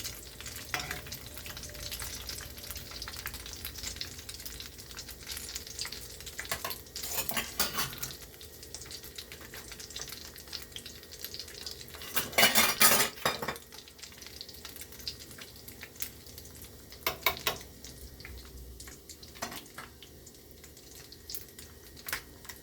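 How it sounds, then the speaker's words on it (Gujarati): Maida batter for Rajasthani ghevar is stirred by hand in a kitchen, making soft, fairly faint swishing and scraping with light utensil clinks and a frying sizzle in the background, plus a brief louder burst midway. "થોડું હલાવી દઈશ એટલે પેલો મેદો નીચે બેસી ના જાય"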